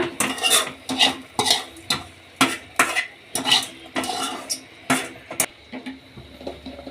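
Raw mango being stirred into a boiled onion and coconut milk curry in a pot, a ladle scraping and knocking in a steady rhythm of about a dozen close, clear strokes.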